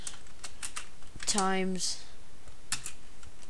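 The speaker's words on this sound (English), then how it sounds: "To get delta, press shift and your 4 key on most keyboards" Computer keyboard keys are tapped in scattered clicks and short bursts, close by, while a person talks over much of the typing.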